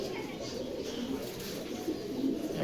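Lakha breed pigeons coo softly in a loft, their low, rolling calls repeating over a steady background murmur.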